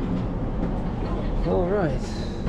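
A train rumbles steadily close by, a low continuous rolling roar filling the scene, with people talking over it and one short spoken remark near the middle.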